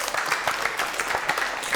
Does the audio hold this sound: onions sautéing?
no